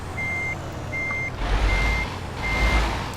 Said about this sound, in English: we're gonna go outside of the truck for this, just to help me a little bit with the backing up process.